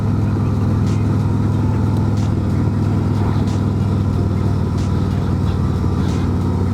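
A 2024 Harley-Davidson Road Glide motorcycle engine runs with a steady, loud low rumble throughout, holding an even drone with no clear revving.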